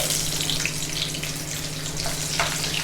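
Sliced onions frying in a pan after green chilies, a steady close hiss and crackle with a low background hum, continuous and even throughout.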